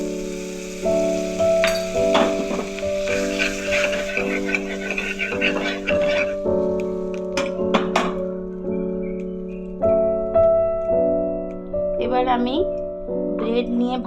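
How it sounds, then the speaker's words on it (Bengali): Butter sizzles in a hot frying pan with a steady, bright crackle that swells and fades in bursts, heard up close beneath sustained tonal background music. "প্যানটা আমার গরম হয়ে গেছে এবার আমি প্যানের মধ্যে বাটার দিয়ে দেবো"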